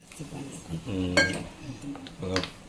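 A spoon clinks and scrapes against a metal pot as Eno is stirred into dhokla batter, giving a few bright, close metallic knocks among softer swirling strokes.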